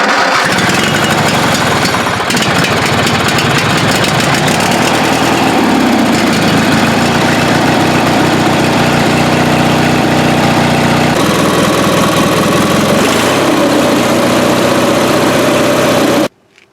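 A free secondhand lawn tractor's engine runs steadily and loudly up close, a continuous rough mechanical drone with small shifts in pitch, then cuts off abruptly near the end.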